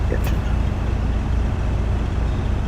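A farm harvester engine runs steadily at the start of a wheat harvest, a constant loud low rumble close by without pause.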